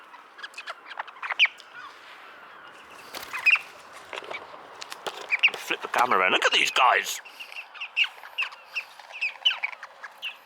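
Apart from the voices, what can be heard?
birds calling nearby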